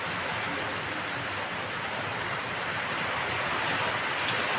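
Strong typhoon wind rushes in a dense, unbroken roar, loud and steady for the whole stretch with no voices.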